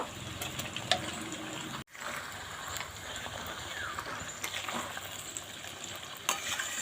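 Chicken fries in a spice masala for a Bengali chicken and potato curry, a dense steady sizzle with repeated spatula scrapes and knocks against the pan, one brief dropout partway through, and no speech.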